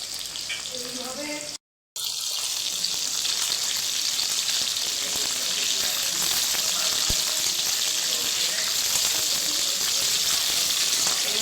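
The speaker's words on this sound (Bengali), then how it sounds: "একটু লাল লাল করে ভেজে নিতে হবে" Chilli chicken ingredients frying in a pan, a steady broad sizzle that runs loud and continuous throughout, broken only by a brief dropout near the start, with faint background voices.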